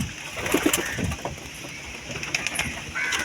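Pigeons in a coop coo softly in low, repeated murmurs, with a few wing flutters and light knocks around them, fairly close and not overlaid by talk.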